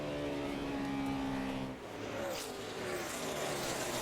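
A NASCAR stock car runs a practice lap at Charlotte, its engine a loud, steady roar that dips briefly as the pitch shifts, then picks up again with a rising whine as it passes, with no talking over it.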